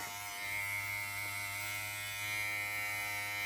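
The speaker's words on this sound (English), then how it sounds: "so she has the experience of feeling the clippers" Electric clippers trim a puppy's belly and sanitary area, giving a steady, close, continuous buzzing hum that holds evenly throughout with no voices.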